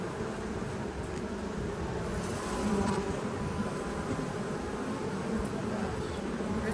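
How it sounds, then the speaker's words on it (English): Honey bees swarm around an open hive during beekeeping, a dense, steady buzzing drone hanging close and loud throughout with no pauses. "Absurd amount of bees I can barely even see."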